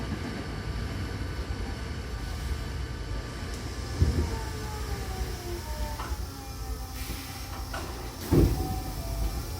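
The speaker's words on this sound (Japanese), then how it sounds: "扉が閉まります。ご注意ください。" A Hankyu Kyoto Line train at Minamikata Station: a low, steady rumble with a mechanical whine, then two sliding-door thuds as the doors close, the second one louder.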